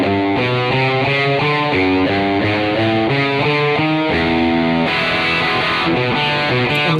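Distorted electric guitar plays a riff, running a choppy single-string figure through the chord progression instead of strummed chords, loud, close and steady with no talk.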